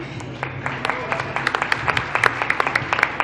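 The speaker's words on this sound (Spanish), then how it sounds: "Les pido un aplauso para Consuelo Sánchez." A crowd at the FIL Zócalo book fair roundtable claps for a panelist, a steady scatter of hand claps that thickens toward the end, with some talk underneath.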